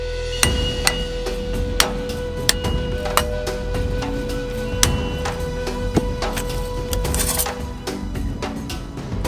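Hammer blows on sheet metal, being punched through to make holes for a plane built entirely from salvaged materials, ring out as sharp, irregular metallic strikes over a steady workshop background hum, with no talking.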